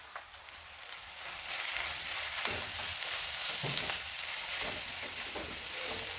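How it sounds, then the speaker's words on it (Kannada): Onions fry in a pan with masala powder, kasuri methi and garam masala added, a steady loud sizzle after a few quick clinks of stirring at the start, close up with no voices. "ನೋಡಿ ಈರುಳ್ಳಿ ಎಲ್ಲ ಚೆನ್ನಾಗಿ ಫ್ರೈ ಆಗಿದೆ ಈಗ ರೆಡಿ ಇಟ್ಕೊಂಡಿರೋ ಆ ಪುಡಿನ ಹಾಕೋಣ"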